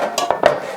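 A brief metallic clatter of baking pans knocking together in a home kitchen during meatloaf preparation, two quick clanks close by, with no speech.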